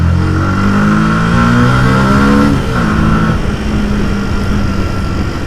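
Yamaha YZF R125 125cc sport motorcycle accelerating at night, its engine loud and close, pitch climbing through a gear then dropping at a shift before pulling again steadily.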